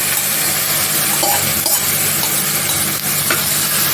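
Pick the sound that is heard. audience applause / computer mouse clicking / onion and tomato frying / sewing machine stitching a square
onion and tomato frying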